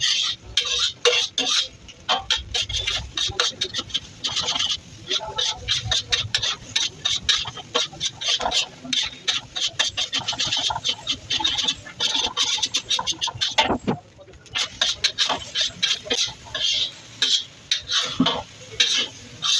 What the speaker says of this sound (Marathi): पुलावला पण हलवून घेतलेला आहे.